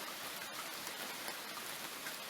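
Steady rain pours down on a walking path leading to a beach on Christmas Island, a dense continuous hiss of drops close by with no talking.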